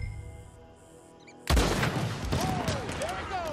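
Gunfire from a Red Dead Redemption 2 shootout: a quiet stretch, then a sudden loud burst of overlapping shots and booms with ringing tails and ongoing commotion.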